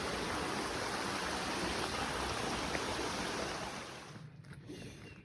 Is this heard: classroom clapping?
no